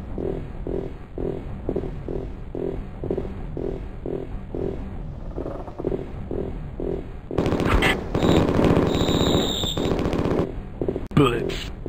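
Rapid bursts of gunfire ring out in the 1995 video game Mortal Coil: Adrenalin Intelligence, a rhythmic machine-gun rattle that swells into a louder, denser barrage with game effects layered over it, followed by one sharp blast near the end.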